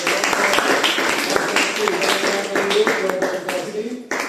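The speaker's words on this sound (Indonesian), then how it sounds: "Tepuk tangan sekali lagi." Students in a school classroom presentation give a round of applause, with busy clapping mixed with voices talking over it before it tapers off.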